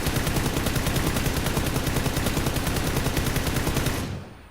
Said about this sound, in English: we'll fire full auto at this wall without a any sort of muzzle attachment on it at all